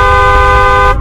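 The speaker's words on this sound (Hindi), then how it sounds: "तभी वहाँ पर बस की हॉर्न की आवाज आती है।" A bus horn blares in a cartoon, one sustained loud honk lasting about a second before cutting off abruptly.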